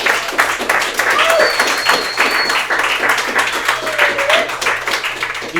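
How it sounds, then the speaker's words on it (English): A live studio audience applauds a guest with sustained, dense clapping at close range. The clapping stays steady for several seconds. "give Dunia a big applause"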